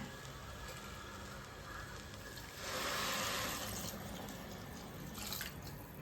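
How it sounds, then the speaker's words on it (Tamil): A steady low stream of water runs into a pot, swelling louder for a moment midway, close and without any voices. "இதில் ரெண்டரை கப் தண்ணி விடுறேங்க"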